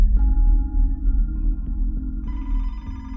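A telephone ringing as a podcast sound effect, repeated electronic ring tones layered over a steady low drone, loud and close, with no voices.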